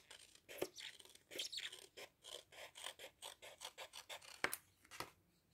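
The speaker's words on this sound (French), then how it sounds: "je viens découper avec mon ciseau" Scissors snip through card in a quick run of close, crisp cuts, each a short rasping crunch, rhythmic through the middle with a few sharper snaps, quiet and without talk, while an Easter bag is crafted.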